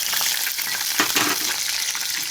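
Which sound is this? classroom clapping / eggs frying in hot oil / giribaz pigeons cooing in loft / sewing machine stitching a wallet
eggs frying in hot oil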